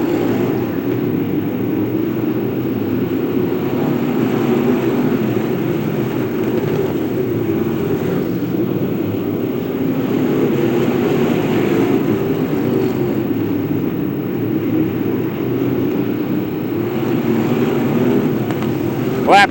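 Street stock race cars lapping Macon Speedway during a feature race, a continuous loud engine roar that holds steady throughout with no clear breaks.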